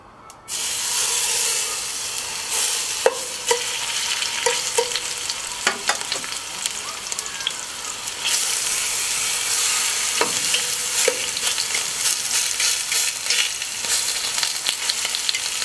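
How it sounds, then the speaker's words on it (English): Pork fillets searing in hot olive oil in a pot, giving a loud, steady close hiss and spattering sizzle with a few scattered clicks and taps, with no talking. "we're going to sear those pork fillets a little bit from all sides"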